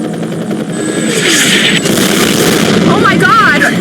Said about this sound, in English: You should have a visual on the evac chopper.